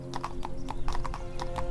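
Horse hooves clip-clop in the medieval video game 1428: Shadows over Silesia, a steady run of close, clear hoofbeats with a faint whinny and soft game music underneath.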